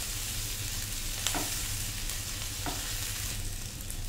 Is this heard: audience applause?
no